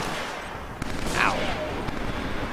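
Shotgun blasts and gunfire ring out in Killzone 3 multiplayer, a few sharp reports over steady battle noise, with a whooshing effect in the middle.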